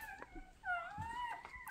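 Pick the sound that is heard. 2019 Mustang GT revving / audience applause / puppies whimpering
puppies whimpering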